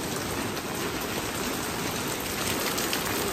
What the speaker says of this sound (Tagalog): Yun, pasang ulan.